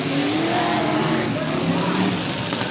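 Race car engine roaring steadily at close range on a dirt oval track, with a continuous droning whine of engine noise and no clear pass-by fade, under crowd and track ambience.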